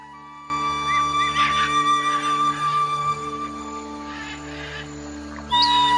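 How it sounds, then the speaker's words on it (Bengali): Birds call around Subhash Sarobar lake in a park of large trees, with scattered chirps and short whistled calls over a steady background hum at moderate distance. "চারিদিকে বেঞ্চ এবং আমরা পাখির কিচিরমিচির শুনতে পাচ্ছিলাম।"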